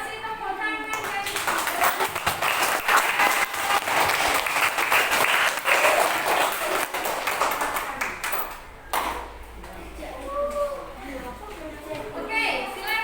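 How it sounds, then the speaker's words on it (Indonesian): Classroom applause from a group of students, a dense patter of many hands clapping for several seconds before fading, followed by chatter and voices. "Kasih tepuk tangan guys."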